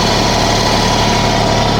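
An LS Tractors LB1107 backhoe tractor engine runs loud and close, a continuous idling rumble with a steady low throb and no talking.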